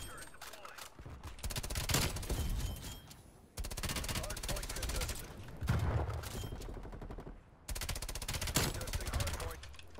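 Rapid bursts of FFAR 1 rifle fire in Call of Duty: Cold War crackle in several long, loud volleys separated by brief pauses.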